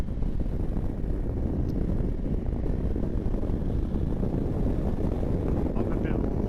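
Wind blows outdoors through pine trees, a steady low rushing buffet against the microphone with no breaks, loud and close.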